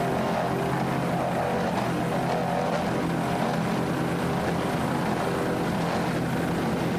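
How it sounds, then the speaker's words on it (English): A 38-foot Fountain powerboat racing in the Daytona Super V class throttles its engines, a dense, steady roar with wind and water noise, loud and unbroken throughout. "Nice throttling there by Wyatt Fountain."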